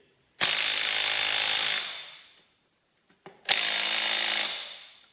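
An impact nut gun hammers at the belt pulley nut on a Ferguson TE20 tractor in two loud, rattling bursts of over a second each, separated by a short pause, with no talking.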